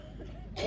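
A single short, forceful cough bursts out at the very end of a moment of quiet room tone, from a preacher delivering a Hindi sermon at a spiritual awakening meeting while suffering from a lingering cough.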